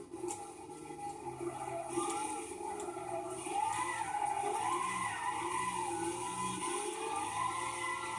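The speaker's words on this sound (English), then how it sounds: "Because these are racing tires and you can hear the struggle that they're going through" Racing tires on a 2011 SRT8 Charger in Gran Turismo 6 squeal and skid under heavy power, a continuous wavering screech layered over engine drone, fairly quiet and sustained.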